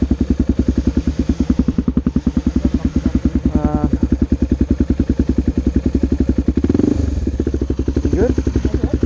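Dirt motorcycle engine running loud and close on a wet, slippery trail at Mt Kembla, a steady rapid thrum with a brief rev near the end, voices talking over it.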